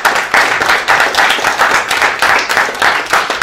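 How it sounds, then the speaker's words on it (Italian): Hands clap at a town meeting between ANFFAS and mayoral candidates in Rivarolo Canavese. The claps are close and loud in a steady, even rhythm, repeating for about three and a half seconds without speech. "Volevo fare un applauso."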